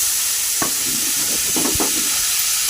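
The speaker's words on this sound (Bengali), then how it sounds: "পেঁয়াজগুলোকে ভালো করে লাল লাল করে ভাজবো" Onions frying in oil tempered with black cumin seeds give a dense, steady close sizzle, broken by a few scraping stirs of a spatula; no one speaks.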